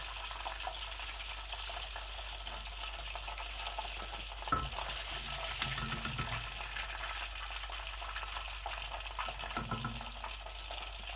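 Chicken wing sticks frying in hot oil give a steady, dense sizzle that runs throughout, with a few soft clinks as pieces are lifted out; no one speaks.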